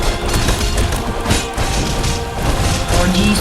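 Loud, dense bomb explosions and crashing impacts in the video game Castle Crashers pile up in a continuous roar, several booms landing one after another.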